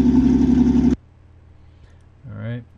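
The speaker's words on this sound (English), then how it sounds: "in order to modify the speed that you're hearing of this exhaust here" Tank engine exhaust with mufflers from the Aces High 3 game: a loud, low, steady throbbing rumble that cuts off abruptly after about a second, followed by near silence and a short voice.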